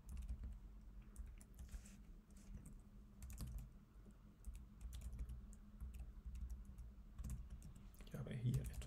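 Quick keystrokes on a computer keyboard while writing HTML and JavaScript code, an irregular close-up clatter with steady low room hum underneath and brief faint voice sounds near the end.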